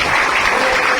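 An audience claps together in a short, dense burst of applause that stays loud and close throughout.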